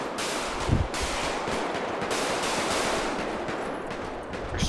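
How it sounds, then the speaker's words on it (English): Rapid automatic gunfire in a GTA roleplay game rattles in sustained bursts, loud and continuous, with no voices over it. "Shooting at me still."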